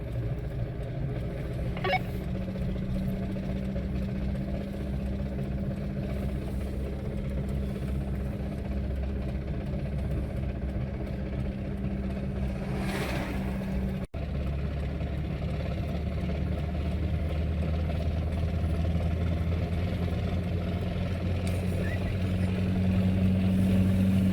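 A Dodge Ram truck engine runs with a failing clutch, a steady low drone that holds through the whole stretch, with a brief knock midway and the rumble thickening toward the end, no speech.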